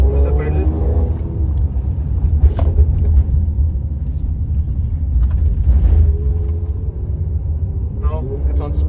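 Stage 2 tuned Mercedes-AMG GLC43 engine in comfort mode as the pedal is pressed, a steady low rumble with rising revs heard from inside the cabin, with people talking over it.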